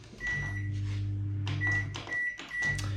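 A microwave oven hums steadily while cooking eggs in a cup with leftovers, a low continuous drone with a few short high beeps and clicks over it, close by and with no talk.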